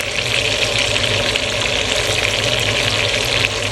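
Vegetables sizzle loudly in a hot pan, a dense, steady crackling hiss of frying that holds constant throughout, close up and without talk.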